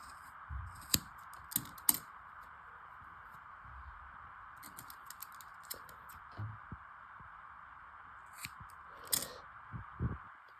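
Small scissors snip the loose yarn edges off a double-sided pom pom, giving a series of short, crisp cuts in irregular clusters over a steady hum, close to the microphone.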